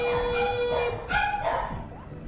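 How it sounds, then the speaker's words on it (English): Pet dogs bark and yip excitedly in quick bursts indoors during a home game stream, fairly loud and close, with a voice audible underneath. "my dogs show up and start barking like crazy"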